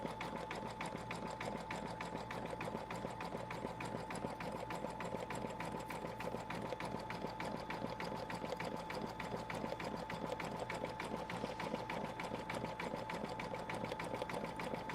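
A sewing machine stitches a quilt block, running at a steady, fast, even rhythm with a continuous mechanical whir and rapid needle ticking, fairly quiet and uninterrupted.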